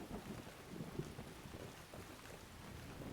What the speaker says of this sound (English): All over Skyrim today. Just a massive rainstorm.